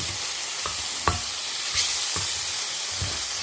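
Prawns sauté in mustard oil in a pan, a steady sizzle broken by several sharp stirring scrapes and taps, close and clear with no talking.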